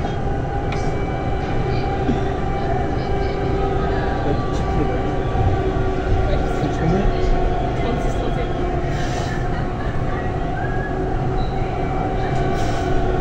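A Siemens VAL 208 NG/NG2 metro train runs on Toulouse's line A between Basso Cambo and Balma-Gramont, heard from inside as a steady, loud rumble with a constant whine, and a voice talks briefly over it.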